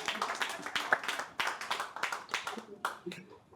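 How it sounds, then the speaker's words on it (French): Audience clapping at a Congolese anniversary celebration, a lively crowd applause with dense irregular hand claps and voices mixed in throughout. "Il faut l'applaudir quand même, Papi Mbom."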